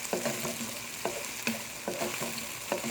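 Garlic and ginger sautéing for chicken chow mein, a steady close sizzle broken by regular scraping stirs of a utensil against the pan, about one every half second.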